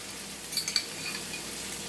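Sweet peppers sizzle in a frying pan with a soft, steady crackle, accompanied by a few light clinks of a utensil against the pan near the middle.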